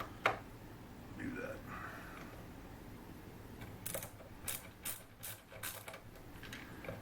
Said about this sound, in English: take the bolts all the way out